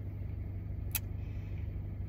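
Traffic rumbles past on a busy road in a low, steady engine drone, with one sharp brief click partway through.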